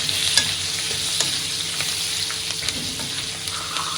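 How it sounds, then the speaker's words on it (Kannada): Steady scraping and stirring of crab sukka with turmeric in a pan over continuous sizzling frying, close and fairly loud, with occasional spoon knocks and no talking. "ನೀಟಾಗಿ ಮಿಕ್ಸ್ ಮಾಡ್ಕೊಳ್ಳಿ ಅರಿಶಿನ"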